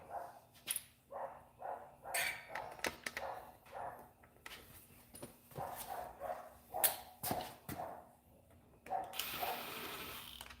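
A dog barks repeatedly in a garage, a steady run of sharp, fairly close barks with short gaps, with no talk over them.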